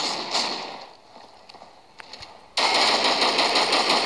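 Sharp, scattered gunshot cracks in the video game Critical Ops, then a dense, loud burst of rapid automatic fire continuing to the end; no talking.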